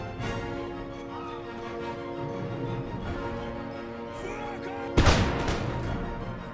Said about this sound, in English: That's the glorious 36th, with the troops behind them also firing their muskets.